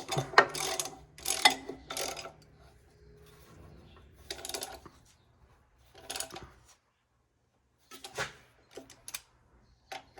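A ratchet wrench tightens a bolt on a John Deere B tractor, giving several bursts of close, crisp clicking separated by pauses, with no talking.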